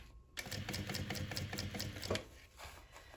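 A sewing machine runs steadily at close range, stitching down the side seam of a fabric pacifier holder with a backstitch at stitch length 3. It starts abruptly after a brief silence and then continues as a dense, even whir with no talking.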